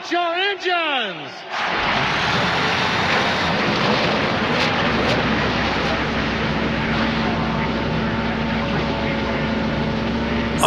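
IndyCar engines in NASCAR Racing 2003 at Homestead fire up after a brief voice, settling into a dense, loud multi-engine drone that stays constant and close.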